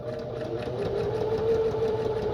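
A sewing machine runs a straight stitch through a junk journal insert, giving a steady, close mechanical hum with a fast, even whir that lasts the whole short stretch.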